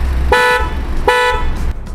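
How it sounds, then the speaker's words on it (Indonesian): An aftermarket European-style car horn from Oto Project, fitted to a Honda Brio, gives two loud, close toots of about a third of a second each, with a brief pause between them and steady engine idle underneath. "Yuk langsung ya kita coba nih hornnya nih setelah dipasang horn dari Oto Project."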